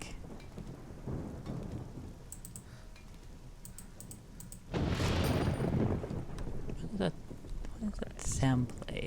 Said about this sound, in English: Lightning strike.